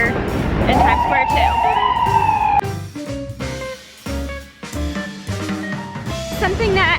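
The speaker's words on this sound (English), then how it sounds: "Featuring the sirens and sounds, those are constantly happening here in Times Square" Emergency sirens wailing amid Times Square street noise in New York, a rising and falling siren early on, then traffic, horns and bustle, loud and close with people talking nearby.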